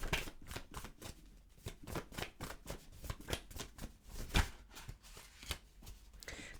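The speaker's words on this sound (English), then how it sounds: "I will pull a card as well" A deck of playing cards is shuffled close up in a quick series of crisp riffles and flutters, quiet and repeated throughout with no talk.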